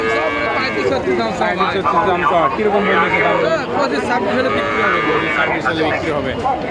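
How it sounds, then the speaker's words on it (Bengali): Cattle and young calves at a livestock market, with Brahman and Sahiwal stock, bellowing and lowing amid a busy crowd of loud overlapping voices, constant chatter dominating. "ভালো কোয়ালিটির বাছুর"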